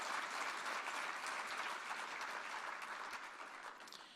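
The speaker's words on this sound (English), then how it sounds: "give these two great leaders of the USGLC and yourselves another round of applause and thanks" Sustained audience applause at a USGLC tribute program, a dense, steady wash of many hands clapping that fades slightly toward the end, with no voices over it.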